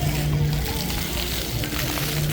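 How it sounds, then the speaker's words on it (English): Water fountain display splashing in a public square in San Salvador, a steady, loud wash of spraying and slopping water with a constant hum beneath it. "I don't think this water fountain display is for showering or swimming or whatever, but kids are having fun here."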